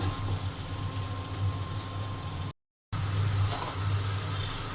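Garlic and cumin spice paste frying in a pan, a steady sizzle with a low hum underneath, broken by a brief cut of silence midway.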